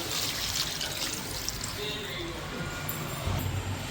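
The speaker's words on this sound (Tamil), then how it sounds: "சிக்கன் வேகிற அளவுக்கு நம்ம வந்து தண்ணி ஊற்றிக்கலாம்." Water pours steadily into a pot of chicken gravy with a continuous splashing trickle, close by, with some kitchen clatter near the end.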